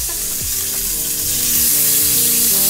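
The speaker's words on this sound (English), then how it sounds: "Right now, I'm frying up bacon because I'm doing it up good for you, Joseph." Bacon frying in a pan gives off a loud, steady, close crackling sizzle that runs unbroken from start to finish, with no voices over it.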